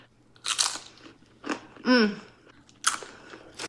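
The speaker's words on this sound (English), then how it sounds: "it comes with like a bag of extra pita, but these ones are more like crunchy" Several crisp crunches of someone biting and chewing crunchy pita chips up close, in short bursts separated by quiet pauses, with a brief squeaky sound in between.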